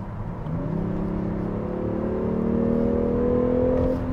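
A Kia K9 engine drones steadily while an active sound design tone, set fairly strong, rises smoothly in pitch during acceleration, heard from inside the cabin.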